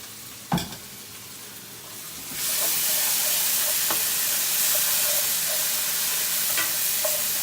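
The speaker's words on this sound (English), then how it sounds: "So nicely fry the masala" Masala for Bangalore Donne biryani hits hot oil and bursts into a loud, steady sizzle after a quiet start with a single clank, with occasional stirring clicks, close and continuous.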